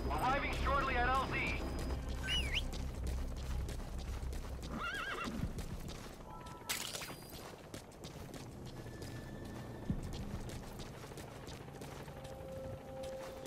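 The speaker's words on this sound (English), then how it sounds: "the horse is all the way down there" A horse neighs and its hooves clip-clop in Metal Gear Solid 5: The Phantom Pain. A whinny opens the clip, and game sound effects and mechanical noises follow, with faint speech underneath.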